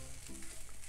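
Food sizzling in a frying pan on the stove as it is stirred with tomato, basil and garlic seasoning, a brief steady crackling fry with soft scraping, no talk.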